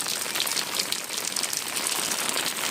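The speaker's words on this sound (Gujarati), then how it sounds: "આજ તો વરસાદે જબરજસ્ત મન મૂકીને વરસો" Heavy rain pours down in Mithapur, a dense, even hiss of drops on surfaces filling the short stretch without a break.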